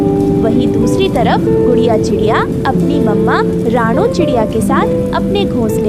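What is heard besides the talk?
heavy rain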